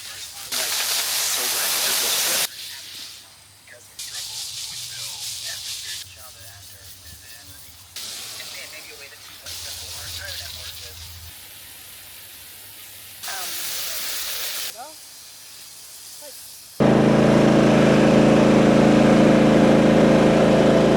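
A garden hose spray hisses in several separate bursts, starting and stopping, then ends in a louder, steady rushing gush of water over a garden bed on a small Australian farm in autumn.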